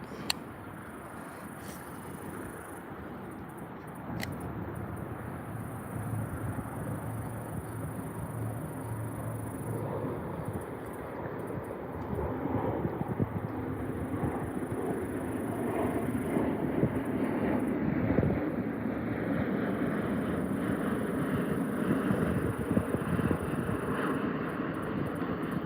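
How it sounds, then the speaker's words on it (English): Planes flying into DFW airport pass at a distance as a steady, broad roar that swells slightly over time, with light wind noise on the microphone and no talk. "those are planes flying into the DFW airport."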